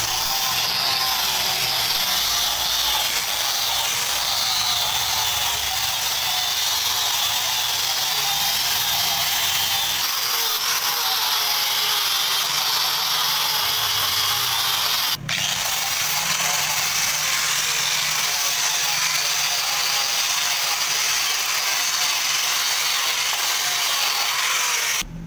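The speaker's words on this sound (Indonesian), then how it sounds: "sekarang kita haluskan guys dengan amplas" Sandpaper rubbing steadily over a wooden chassis piece for a 1:10 scale miniature Isuzu Elf NMR 71 truck, a continuous close abrasive scraping with one brief sharp knock partway through and no talking.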